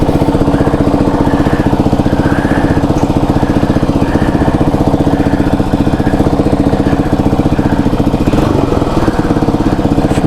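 A homemade Frankenbike motorcycle's engine runs close by, with a loud, steady, buzzing put-put idle that is continuous and even throughout and carries faint mechanical rattles.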